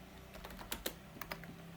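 Keys clatter on a computer keyboard at a coding desk, a quiet, uneven burst of several clicks with a couple of sharper taps, close by and faint, with no one speaking.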